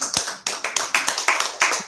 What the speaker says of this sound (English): clap it up for Fade, everybody